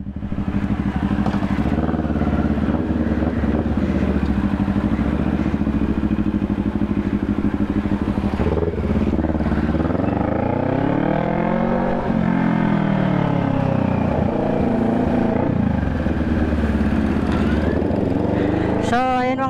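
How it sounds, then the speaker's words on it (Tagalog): A Kawasaki-style NK400 motorcycle fitted with a new aftermarket exhaust pipe runs loud and close, its engine rumbling steadily with rising and falling revs, and a voice speaks faintly beneath the noise. "So medyo maingay na ngayon yung motor natin."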